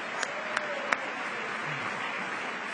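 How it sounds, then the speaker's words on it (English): Steady applause from a crowd in the US House chamber, a dense even patter of clapping that holds at a constant level throughout, with a few sharper claps standing out early on. "let all of us applaud all of our families"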